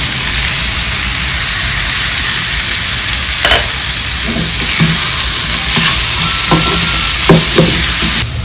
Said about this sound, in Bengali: এবার আমি এতে আলু দিয়ে দেবো এরকম চিকেনেরই মতো ছোটো ছোটো করে আলুটাকে পিস করে নিয়েছি